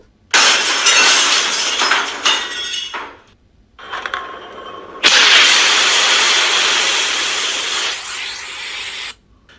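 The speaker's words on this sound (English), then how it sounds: "Soon the window shatters and several canisters of tear gas comes flying into the room and goes off." A window shatters as tear gas canisters come through it: loud, dense crashes of breaking glass open the passage, then a second crash gives way to a long, steady hiss before cutting off abruptly.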